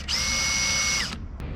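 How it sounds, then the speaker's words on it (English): A power drill runs steadily for about a second, driving into a wooden boat from below to set screws for the bows, then spins down, followed by a short faint click. "now I'm just going to drill from below for the screws that will hold the bows on"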